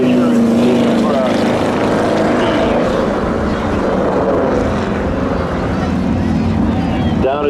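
A Honda Civic and a Corvette launch side by side at a spectator drag racing showdown, their loud, sustained engine roar filling the air while an announcer talks over it.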